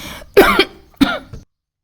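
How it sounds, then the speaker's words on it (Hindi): Two harsh coughs from a woman who is slightly ill, close and fairly loud, separated by a short pause, then silence. "मुझे खांसी भी हो रही"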